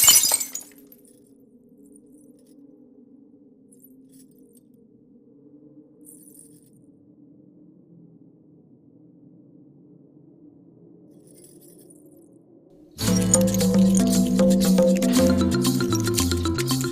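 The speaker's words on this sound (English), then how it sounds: "The normal procedure would be break glass, do footsteps, sitting on a chair on the glass, looking at the visuals and try and match sync." Glass smashes loudly at the start, then a long low steady hum runs underneath before a dense, loud clatter of breaking and crunching glass takes over for the last few seconds, recorded as Foley for footsteps on glass.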